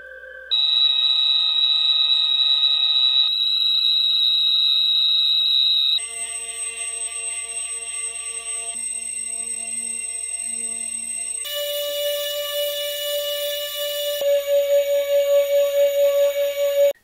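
Oiled 19,500 kV BetaFPV brushless drone motors spinning up through several speed steps, a steady high-pitched electric whine that shifts pitch in distinct stages, close and loud with no talking.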